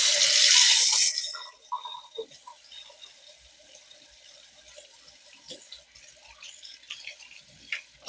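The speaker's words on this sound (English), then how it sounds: "I will take that and drip some water down in the mug until I get a little bit of water in there." Hot water from a tap dripping into a shaving mug: a loud running stream for about a second, then sparse, irregular drips and small splashes into the mug.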